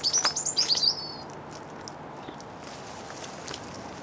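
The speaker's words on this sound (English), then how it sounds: "And of course the birds." A bird sings a quick run of bright chirping notes in a spring garden in May, near and clear over quiet outdoor ambience, then falls silent while faint rustles and footsteps continue.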